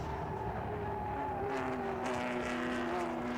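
Ford GT40 race cars at Silverstone approach Stowe Corner, a steady engine roar with rising whining harmonic tones that swell slightly as they near, continuous and loud without talk.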